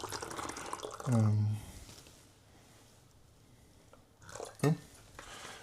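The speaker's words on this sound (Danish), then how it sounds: "så den fylder jeg op og drikker bare rent vand under træning" Tap water running into a 1-liter drink bottle, a brief close burst of filling that rises in pitch, followed by a second short splash after a quiet pause.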